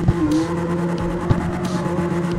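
Engine drone of a Toyota Supra during a drift event in the CarX Street racing game, a steady, loud, sustained tone with a couple of brief bumps and little sign of distinct tire squeal.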